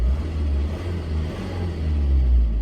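A car engine revving as the accelerator pedal is pressed, a steady close low rumble that swells slightly toward the end, with no voices.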